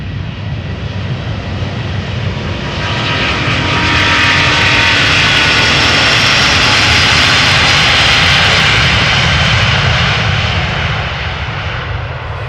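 Delta Airlines Airbus A350 jet on flight 75 at Amsterdam Schiphol roars loudly and close, the engine noise swelling to a peak in the middle with a high whine before easing slightly; no one speaks.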